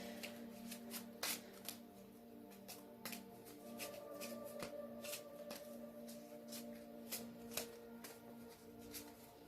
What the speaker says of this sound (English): If you want to skip forward through me shuffling, that's totally fine.